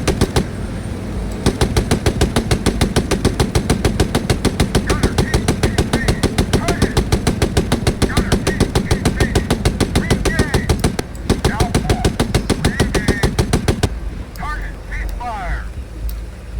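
A tank's machine gun in Gunner HEAT PC fires long, rapid, evenly paced bursts, loud and close, with short pauses and faint in-game radio voices cutting in near the end.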